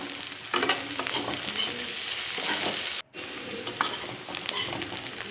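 Ginger, garlic and chili sizzle steadily in hot oil in a pan while a utensil stirs and scrapes, with a brief drop to near silence midway before the frying resumes.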